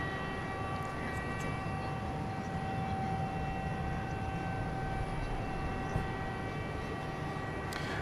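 An Airbus A321 airliner at DFW Airport at night, a steady distant engine drone with a faint high whine, continuous and even throughout.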